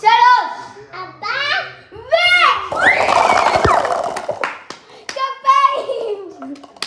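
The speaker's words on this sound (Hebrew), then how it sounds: "כפיים." Children clap their hands in a burst of close, sharp claps, mixed with excited kids' voices and chatter before and after.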